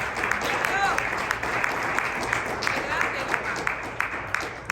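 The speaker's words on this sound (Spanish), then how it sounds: "Regalen ofrenda de palmas al Señor." Church congregation applauding during a Spanish-language Bible study sermon, steady sustained clapping from a crowd filling the room, with faint voices mixed underneath.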